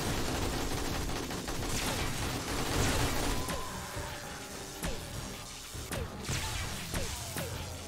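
Gunfire in the survival video game 7 Days to Die, Darkness Falls mod: dense, loud volleys of shots mixed with crashing impacts and sharp cracks, easing into scattered distinct bangs toward the end.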